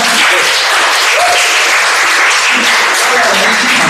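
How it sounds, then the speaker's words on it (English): An audience at a Toastmasters speech contest applauds the contestants, a loud, dense, steady wash of clapping that fills the whole stretch without letup. "Let's give them a big round of applause for their efforts today."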